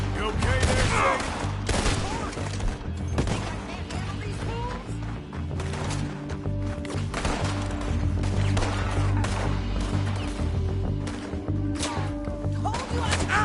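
Dense gunfire in Red Dead Redemption 2, a loud sustained fusillade of overlapping shots and cracks with game voices mixed in.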